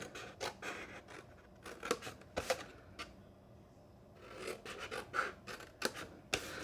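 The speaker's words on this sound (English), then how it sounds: "So I'm just cutting right up the middle of the score line." Scissors snip up the score lines in cardstock, a run of crisp, close cuts in uneven bursts with a short quiet pause in the middle.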